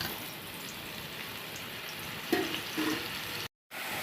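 Sliced mushrooms sizzle in hot oil for a mushroom gravy, a steady broadband hiss with a brief louder crackle midway and a short break near the end.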